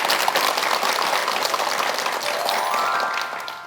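A lecture audience at a wellness clinic talk claps for a few seconds, the dense applause tapering off toward the end.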